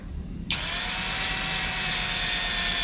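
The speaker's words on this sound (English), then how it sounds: "Now I will drill the holes on the stainless steel." A power drill starts abruptly and runs steadily with a high, whining grind as it bores holes in stainless steel, loud and close, continuing without pause.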